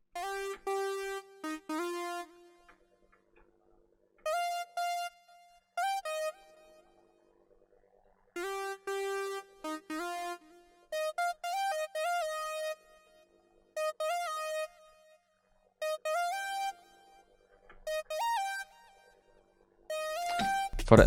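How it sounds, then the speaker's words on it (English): A dry synth lead from the Zebra synthesizer plays a top-line melody for a hip-hop beat, with no effects. Bright, clean tones come in short phrases separated by gaps of silence. "For the third sound, I picked the lead also from Zebra, and I played this top melody."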